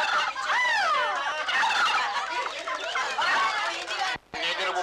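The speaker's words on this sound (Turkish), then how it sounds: "Bu hindiler de nereden çıktı?" A flock of turkeys gobbles loudly and almost continuously, in a scene from an old Turkish feature film, with overlapping warbling calls filling the whole stretch and a brief drop near the end.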